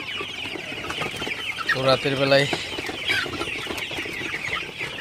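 Sonali super hybrid chickens cluck in a poultry house at night, a close flock murmur with one louder burst of clucking near the middle while someone talks over it.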